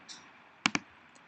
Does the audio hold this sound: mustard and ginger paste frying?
no